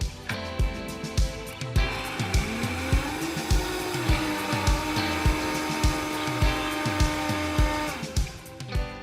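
A kitchen blender whirs steadily, blending vegetables with vegetable broth. Rhythmic thumping beats run under the motor, likely background music. The blend is loud and close and lasts about eight seconds, starting and stopping cleanly.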